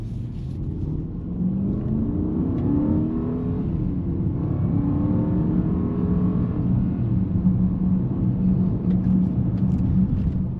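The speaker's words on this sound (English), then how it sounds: "with the exception of the roaring of the engine" A Mercedes-Benz GLE 580 with a V8 engine drives along. Its engine roars in a deep, steady rumble that climbs in pitch as it accelerates, close and continuous, with no talking.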